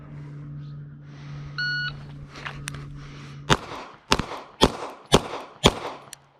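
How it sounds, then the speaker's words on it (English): A shot timer beeps, then a Tisas Tank Commander pistol is drawn and fired five times on a range drill, the five sharp, loud shots coming at a quick, fairly even pace after the tone. "we're going to start by drawing and firing 5 rounds with a 5-second part time here."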